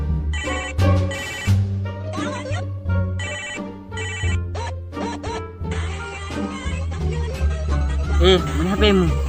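A mobile phone rings loud and close with a repeating electronic melody in rapid bursts, continuing steadily over the whole stretch while people talk over it.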